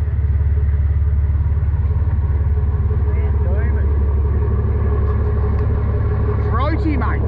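A boat engine rumbles throatily and steadily at close range, a loud low drone with a pulsing idle rhythm that carries through the whole stretch, with faint sounds from the water or deck above it late on.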